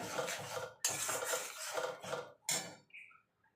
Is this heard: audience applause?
no